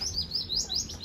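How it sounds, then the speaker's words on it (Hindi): Small birds chirping in a quick series of high, bright chirps and tweets. The calls are close and clear over a soft background, with no talk. "किनिया प्यारियां चिड़ियां आई"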